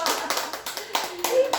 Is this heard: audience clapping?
yes